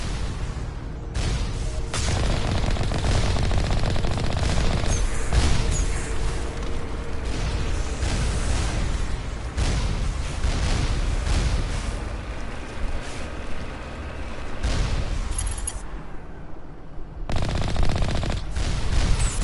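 Missiles striking a ship in the Mass Effect video game, heavy continuous blasts and rumbling impacts layered with gunfire-like crackle, loud and sustained throughout, with no talking.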